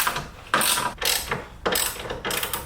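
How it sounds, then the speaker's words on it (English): A 13mm ratchet clicks in quick bursts while loosening the carbon strut brace bolts on a BMW F80 M3, giving four close, crisp runs of ratcheting with short pauses between them. "Next, you just wanna take a 13mm and loosen up all the bolts of the carbon strut brace."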